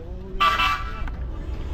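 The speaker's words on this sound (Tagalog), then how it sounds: "Lakas ng busina." A single loud boat horn blares for a fraction of a second nearby, over the low rumble of a Honda GX390 engine.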